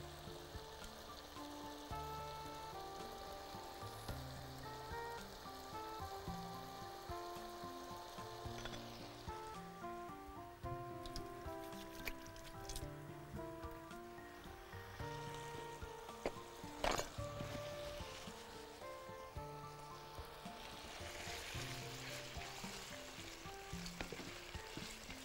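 Chicken fries in a pan for Chinese-style chicken, giving a steady close sizzle with occasional stirring clatter, quiet and continuous throughout.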